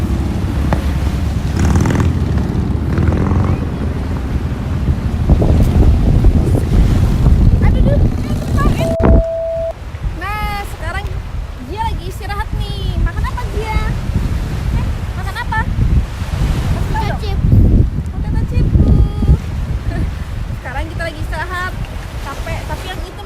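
Sea waves wash and break on a beach in Japan with a constant rushing surf and wind buffeting the microphone, while several people talk over the water throughout.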